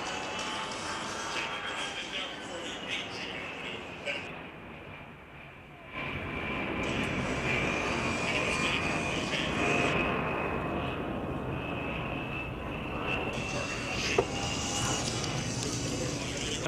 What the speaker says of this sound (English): we continue on with the Warthog demonstration by the U.S. Air Force